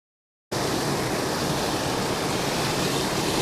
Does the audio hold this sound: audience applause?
no